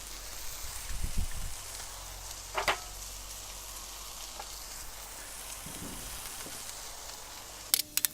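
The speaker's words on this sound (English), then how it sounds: "I think it's time to put the broccoli on here" Broccoli sizzles softly on a hot griddle in a quiet, continuous crackle, broken by a few handling thumps and clinks, with a sharp metallic tap near the end.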